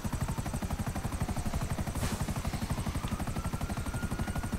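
Helicopter in a GTA video game, a steady rapid rotor chop with a droning engine hum, loud and continuous from start to finish and heard from on board, with no talking.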